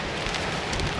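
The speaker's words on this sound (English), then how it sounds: "it's starting to rain" Rain begins falling on a tent, a steady dense patter with gusty wind noise, loud and close, with no voices.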